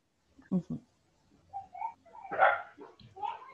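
A small dog barks near the microphone in quick yips, with a couple of sharp barks early and more scattered yelps and whimpers after, during an online community forum.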